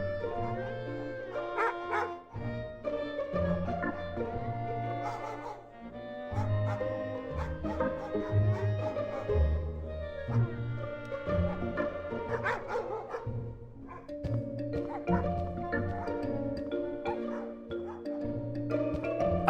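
Several dogs at an animal shelter in a video game bark, yip and whimper almost constantly in a busy chorus, with a voice speaking occasionally.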